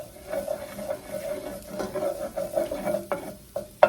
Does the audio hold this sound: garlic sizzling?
yes